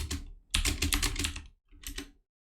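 Bursts of fast computer keyboard typing, close and fairly loud, in two runs separated by a short pause, with no talking.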